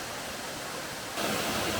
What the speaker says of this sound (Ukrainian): А Оце верхня частина водоспаду.